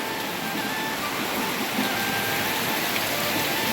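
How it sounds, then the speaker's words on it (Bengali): Heavy rain pours down outside a house in a dense, continuous roar of drops striking surfaces, loud and unbroken from start to finish. "আর দেখো প্রচণ্ড বৃষ্টি পড়ছে"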